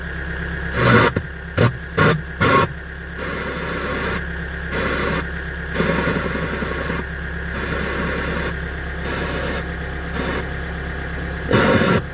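A Kia Bongo 3 diesel food truck engine idles with a steady low rumble, interrupted by a few sharp clicks and knocks near the start and end.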